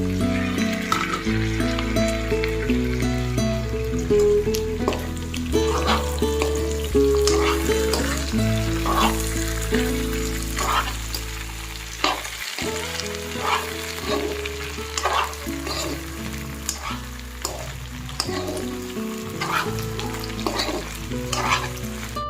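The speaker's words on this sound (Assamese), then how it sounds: "ইয়াত এতিয়া আমি কাটি থোৱা ঔটেঙাখিনি দি দিম।" Chopped elephant apple cooking with pork in a pan, a steady loud sizzle of frying with repeated scraping and clacking of a spoon stirring throughout, with a brief gap midway.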